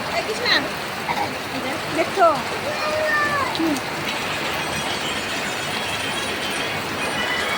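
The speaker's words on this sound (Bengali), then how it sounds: "বৃষ্টি দেখো প্রচণ্ড বৃষ্টি হচ্ছে" Heavy rain pours steadily at a brick kiln, a dense continuous roar of water that fills the scene at close range, with a few brief spoken words and faint chirps near the start.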